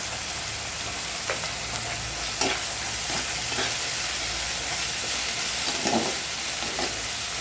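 Prawns and onions fry together in a pan for a ridge gourd prawn dish, making a steady, moderately loud sizzle with occasional scraping stir clicks scattered through.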